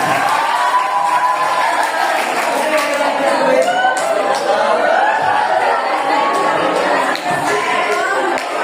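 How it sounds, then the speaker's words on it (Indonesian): Audience applause and cheering at a school muhadhoroh speech event, a sustained wash of clapping with shouts, whoops and chatter from the crowd throughout. "Tepuk tangan yang keras."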